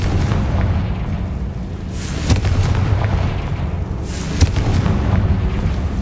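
A Confringo blasting spell explodes in the Hogwarts Legacy video game: a dense, roaring rumble holds throughout, with two sharper booming blasts standing out partway through.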